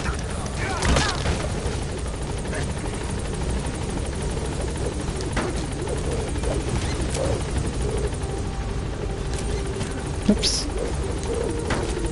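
Pequod helicopter in a video game, a steady rotor drone throughout with scattered gunfire and booms over it, while a voice briefly speaks.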